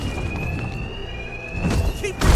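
A steady electronic alarm tone rings inside a building in Batman: Arkham Knight, held at an even pitch and level, with low rumbling game ambience beneath and a heavier thud near the end.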